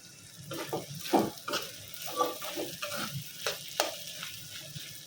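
Food being turned over in a pan on a stove, a quiet low sizzle with a series of soft scraping stirs recurring every second or so, close and unaccompanied.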